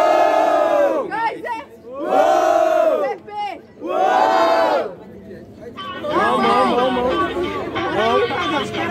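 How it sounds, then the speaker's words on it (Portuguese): A crowd at a Brazilian street rap battle erupts in loud, rhythmic shouting and cheering in several surging waves, with a dense, close hubbub throughout. "Barulho pra rima do mundo Pepe"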